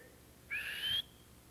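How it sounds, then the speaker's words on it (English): A single sharp whistle blast, about half a second long, is blown to start a football run-blocking drill. It sounds loud and close against quiet surroundings. "blow the whistle"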